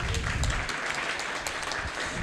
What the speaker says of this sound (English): yeah, you can clap it up